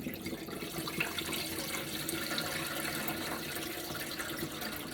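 Pork roast being washed under a running tap, a continuous close rush and splash of water over meat with small irregular splatters, no voices.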